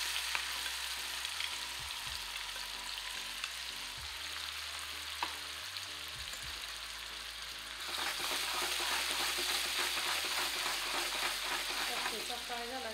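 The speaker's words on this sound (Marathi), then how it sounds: "मोहरी तडतडली त्यात आपण थोडेसे शेंगदाणे टाकणार आहे" Peanuts fry in hot oil among spluttering mustard seeds, giving a dense, steady sizzle with crackling pops that swells louder partway through, close by with no talk.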